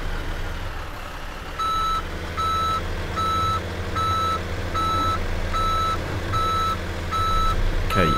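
A truck reversing in Farming Simulator 2017 gives off a steady series of about seven evenly spaced electronic beeps over a low engine hum, with no talk.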